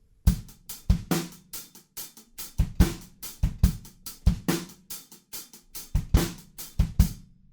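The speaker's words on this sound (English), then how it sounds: "add the snare drum over the top of our existing bass drum" Crisp snare hits layered over a steady bass drum beat, a simple repeating drum pattern played alone at moderate tempo.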